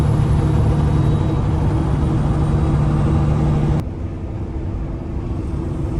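Peterbilt dump truck engine pulling hard in high gear from inside the cab, a loud steady diesel drone that abruptly drops in pitch and load as it shifts into top gear.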